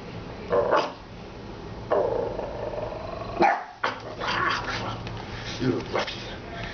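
A dog barks and growls in short, scattered bursts indoors, fairly close, while a person talks over it throughout.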